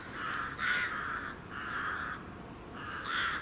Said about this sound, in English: More birds heading to roost.